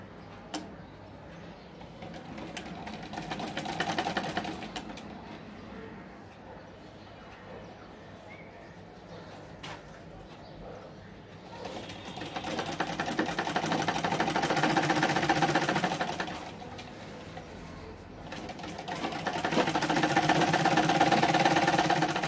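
Electric sewing machine stitching along a folded strip of cloth for a dori, its motor whirring in bursts of steady mechanical hum, louder runs around the middle and end separated by quieter pauses.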